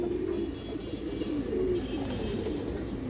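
Soft, low cooing of pigeons repeating in slow rolling phrases, close by, with faint chirps and background hiss.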